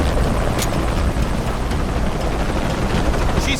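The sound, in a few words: helicopter in video game Shadow of the Tomb Raider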